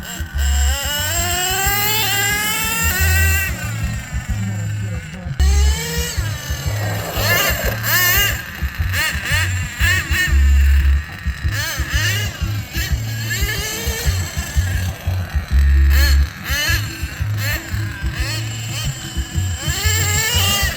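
An HPI Savage RC car on a test run at a harbour, its motor whining loudly in rising and falling bursts as it shifts through the gears, with brief pauses between runs.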